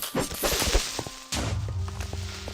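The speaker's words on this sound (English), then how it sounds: "Love that explosion." An explosion from the Minecraft game, a sudden blast that cuts in mid-clip and is followed by a low rumble with scattered pops and clatter. Speech-like game sounds come before it.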